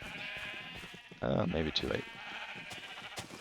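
A Minecraft sheep gives a short, loud bleat in the middle of the clip while someone talks through most of it.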